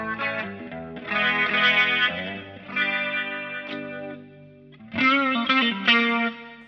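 Electric guitar playing a solo through delay and distortion, sustained bending notes with echoing repeats in several loud phrases separated by brief dips, no voices.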